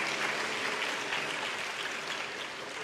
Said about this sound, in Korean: 두 분 앞으로 나오실 때 격려의 큰 박수